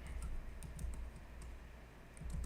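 Light typing on a computer keyboard, a quick, uneven patter of soft key clicks at close range against a low background hum, with no voices.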